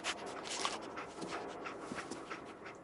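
Dogmeat, the German Shepherd companion in Fallout 4, pants in quick, breathy bursts close by over a steady background hiss, with a faint whimper here and there.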